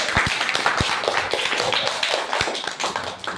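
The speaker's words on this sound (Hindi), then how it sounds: "एक बार जोरदार ताली साहब के लिए बजाइए" A classroom audience claps loudly with fast, dense slaps, and a few sharp, close claps stand out above the rest. Some faint voices can be heard in the background.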